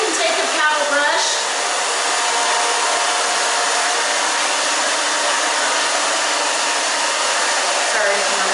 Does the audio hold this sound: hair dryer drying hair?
yes